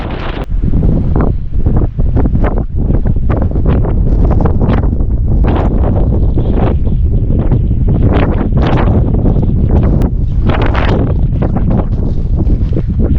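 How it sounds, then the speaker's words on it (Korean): Strong gusts buffet the microphone on a snowy mountain ridge along the Sobaeksan traverse, a loud, rough roar that rises and falls in surges throughout. "바람이 많이 약해졌습니다."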